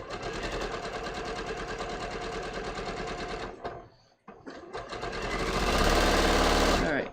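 A sewing machine stay stitches along a dress edge in a loud, close, steady rapid chatter, pausing briefly in the middle and then resuming and speeding up.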